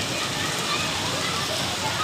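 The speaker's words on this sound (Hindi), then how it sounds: "आप देखें कि पानी कितनी तेज़ी से बहता हुआ जा रहा है" Rainwater rushing fast through the streets of Quetta during a heavy storm, a dense, steady broadband wash of flowing water and rain close by, continuous for the whole stretch with voices faintly underneath.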